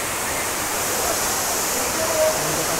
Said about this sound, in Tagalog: napakataas ng waterfalls na to, oh